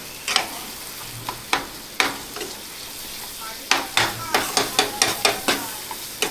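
Malvani masala paste being stirred into chicken curry in a pan, with a steady sizzle underneath and a string of sharp, regular spoon scrapes and knocks against the pot, close and fairly loud with no talking.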